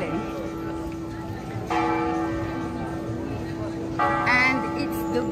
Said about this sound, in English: And it's the bell in front of us and two bronze men that are indicating hours